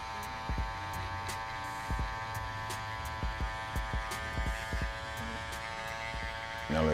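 Hair clippers hum steadily with a mains-like buzz during a taper fade haircut, with soft clicks and taps of the blade against the hair throughout.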